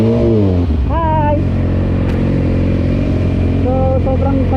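A Yamaha R6 motorcycle engine revs loudly and close by, rising sharply once near the start and again toward the end over a steady, rumbling idle.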